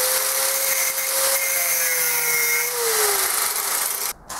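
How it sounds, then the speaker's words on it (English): An angle grinder cutting metal grinds steadily with a harsh, high whine that shifts in pitch, loud and close, then cuts off abruptly near the end. "I may need the angle grinder"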